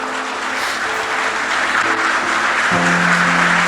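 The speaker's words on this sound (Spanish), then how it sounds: "¿Cuántos le aplauden al Señor?" A church congregation applauding during a Spanish-language sermon, a steady wash of clapping that holds at full loudness throughout, with a sustained low tone entering near the end.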